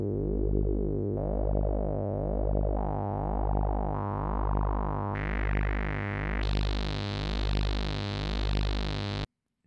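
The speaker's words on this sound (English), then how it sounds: "a resonant low-pass filter to a stereo sawtooth wave with slightly different frequencies between the left and right channels" SuperCollider synth playing a stereo sawtooth wave, slightly detuned between left and right channels, through a resonant low-pass filter: a buzzing sustained tone that steps upward in pitch several times, brightening with each step before cutting off abruptly.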